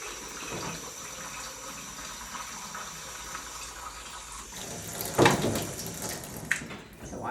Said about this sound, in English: The water likes to splash in here.